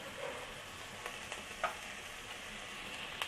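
Cauliflower and green peas stir-fry on a medium flame for a foxtail millet vegetable biryani, a faint, even sizzle with a few light clicks of the spoon against the pan.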